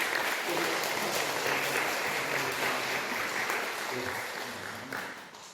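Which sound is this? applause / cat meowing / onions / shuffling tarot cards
applause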